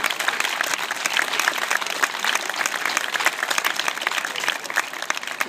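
Steady, dense applause from an audience at an SPD election campaign kickoff in Laatzen, honoring local politicians; many hands clapping continuously at an even level throughout, with no talk over it.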